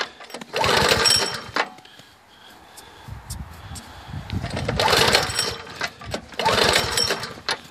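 Small pull-start engine with the choke up, cranked in repeated bursts: loud rattling pulls around one second, a quieter pause with low rumble, then two more strong sputtering bursts near five and seven seconds, no words spoken.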